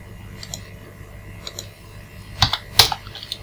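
Computer keyboard keys are pressed for a copy-paste shortcut, a few soft clicks followed by two sharper, close keystrokes in quick succession.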